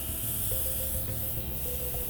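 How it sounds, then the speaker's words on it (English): An airbrush makeup system sprays in a continuous soft hiss held close, used about six to eight inches from the face in circular motions. "you're just putting your airbrush system about 6 to 8 inches away from your face"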